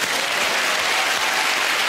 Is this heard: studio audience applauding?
yes